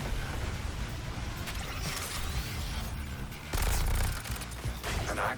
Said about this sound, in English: The cannon is firing its energy weapon.